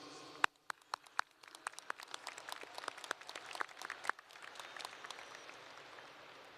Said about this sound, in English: I would like us all to give a round of applause to these students.